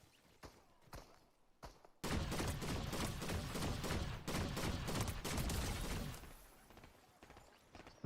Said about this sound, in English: I hear bullet shots, but I don't know where they're coming from.